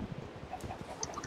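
Chickens clucking softly in Minecraft, a few short clucks scattered over a quiet, hissy background, faint and somewhat distant with no voices.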